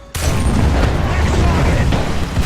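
A modified 120mm Rheinmetall tank gun fires in War Thunder: after a short near-silent moment, one sudden heavy blast breaks into a loud, rumbling roar that carries on to the end.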